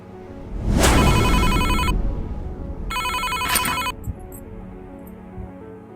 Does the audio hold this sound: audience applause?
no